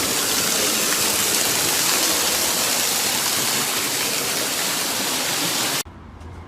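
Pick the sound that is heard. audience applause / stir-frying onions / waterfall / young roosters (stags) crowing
waterfall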